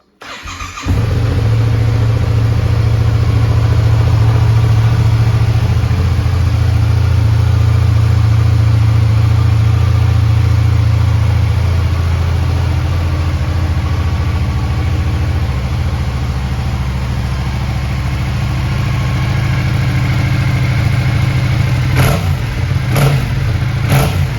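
A 2019 Yamaha MT-07 motorcycle with a cross-plane crank and Akrapovic exhaust fires up nearby and settles into a loud, steady idle with a deep rumble, running continuously without talk.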